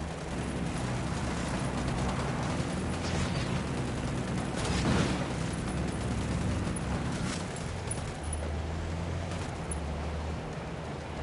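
Gunfire in the tactical shooter Ghost Recon Wildlands, with a continuous rumbling barrage of shots and explosive booms under a low engine-like drone, dense and moderately loud throughout.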